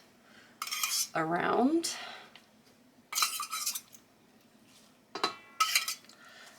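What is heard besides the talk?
spoon stirring and dribbling oil in a bowl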